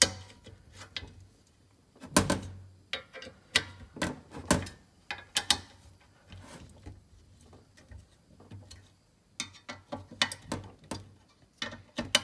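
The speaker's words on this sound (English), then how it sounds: "We're going to torque these up to 15 foot-pounds." Torque wrench tightening clutch bolts on a classic Mini Verto clutch, a series of close mechanical clicks and ratcheting bursts with short pauses between, fairly loud against a quiet workshop.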